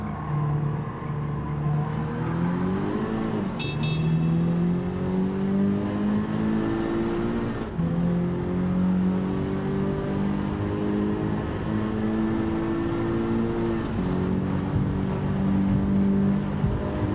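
Race cars in the video game Gran Turismo 7 howl continuously at close range, the engine revving up through each gear with brief dips at gearshifts, loud and sustained with no talking.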